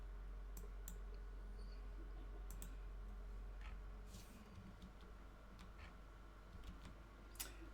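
Several sharp mouse clicks on an article link, spread out over a steady low background hum, close and fairly quiet, with no talking.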